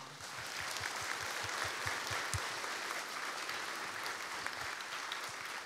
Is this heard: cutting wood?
no